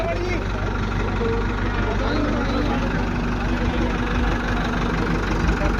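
A Kartar 5936 tractor engine runs steadily during a field trial in a village, a continuous loud diesel drone with no breaks and no talk.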